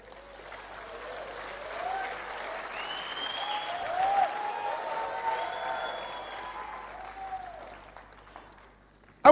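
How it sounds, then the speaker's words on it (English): Audience applause at a leadership talk, a steady wash of clapping with some cheering voices from a large crowd, fading out toward the end. "Clap."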